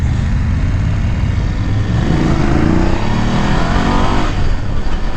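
A 2020 BMW F 850 GS Adventure motorcycle with an electronic quick shifter accelerates hard on a ride in Long Beach, its engine roaring loud and close with a steady, rising drone and no talk over it.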